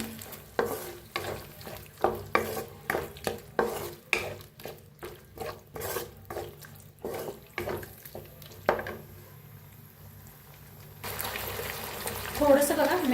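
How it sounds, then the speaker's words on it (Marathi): Tomato sauce being stirred and roasted in a pan with chicken, a rhythmic series of spoon scrapes and stirs over a soft sizzle, then a steadier, louder frying hiss near the end. "आता थोडंसं हलवून भाजून घेऊया"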